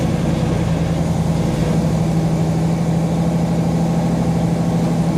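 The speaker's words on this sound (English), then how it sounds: "it's a good start, going through the first 3 gears already." A Fury car engine runs steadily up through its first gears, a loud, continuous low drone with a constant hum and no voices over it.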